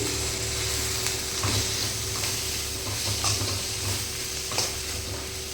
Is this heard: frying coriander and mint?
yes